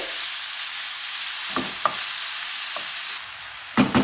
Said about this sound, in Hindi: इसको 2-3 मिनट फ्राई करेंगे जब तक इसका कलर नहीं चेंज हो जाता कीमे का।